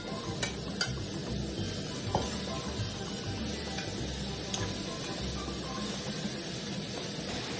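Fiddlehead fern greens (dhekia bhaji) frying in a pan, a steady soft sizzle broken by occasional clicks and scrapes of a stirring utensil, close but fairly quiet.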